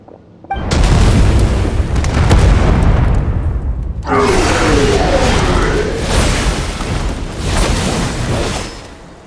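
Loud cannon fire and booming explosions from the video game Genshin Impact, with a heavy blast near the start and a second strong burst about four seconds in, followed by rumbling, crackling debris that slowly fades.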